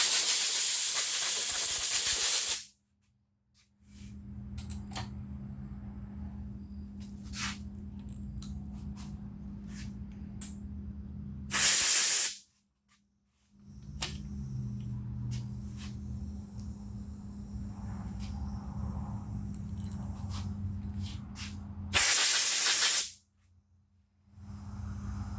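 Engine main bearings being spray washed in a brush washer, a steady hissing spray running for long stretches, broken by short silent pauses and brief louder bursts of hiss.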